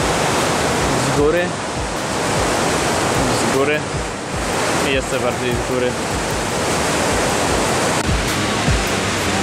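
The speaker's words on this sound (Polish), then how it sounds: "Tak sobie leci woda." Water pours steadily down a waterfall in the mountains of Sa Pa, Vietnam, a loud, unbroken roaring rush, while a person speaks briefly over it.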